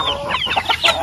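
A chicken clucks in a quick run of short, bright calls, close and fairly clear over a faint background.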